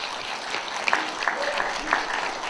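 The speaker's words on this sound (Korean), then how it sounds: "먼저 이렇게 크게 박수 환영해 주십시오." An audience at an academic lecture applauds to welcome a speaker, a steady wash of clapping throughout the short stretch with a few louder claps standing out.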